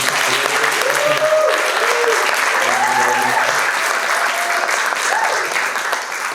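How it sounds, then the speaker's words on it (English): Conference audience applauding a speaker, a loud, dense and sustained wash of clapping from a sizeable room, with faint voices underneath that rise and fall. "Let's clap for Rachel."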